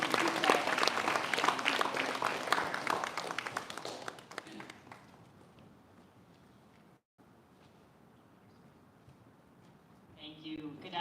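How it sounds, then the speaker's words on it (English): A crowd claps loudly and steadily for several seconds at a human rights event at the US Congress, the applause fading out into quiet room tone before a voice begins at the end. "Let's show our appreciation with a big clap."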